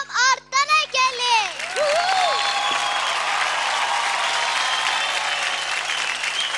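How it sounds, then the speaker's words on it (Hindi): A host calls out over the mix, then the studio audience of a children's dance reality show breaks into loud, sustained applause with cheering that fills the rest of the moment. "जोरदार तालियां बजाओ याहू के टीम से ओम और तनय के लिए।"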